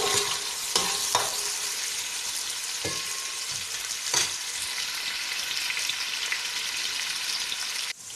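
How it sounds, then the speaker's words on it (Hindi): Onions fry steadily in oil in a pan, a continuous close sizzle with a few sharp stirring scrapes and clicks, and no voices. "प्याज को हम लोग अच्छी तरह इसको फ्राई करेंगे यहाँ तक कि हल्की सुनहरी हो जाए।"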